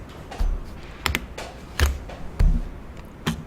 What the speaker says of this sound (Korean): 키보드에서 F6 다시 눌러줄게요